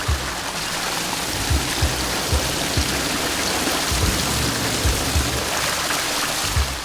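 Rushing floodwater roars loud and close in a continuous dense wash, broken by occasional dull low thumps.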